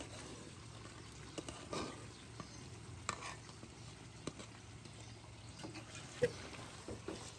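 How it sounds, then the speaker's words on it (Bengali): Lentils (dal) frying in a hot, smoking pan, a faint, steady sizzle with occasional soft taps and stirring clicks scattered throughout. "এখন ডাল দিয়ে দেওয়া হবে। এত ধোয়া, ডাল এখন ঢেলে দেওয়া হচ্ছে।"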